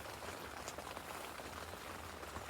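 Rain falling on a club lake in Hertfordshire during a carp fishing session, a soft, even patter of drops on surfaces, quiet and continuous with no voices.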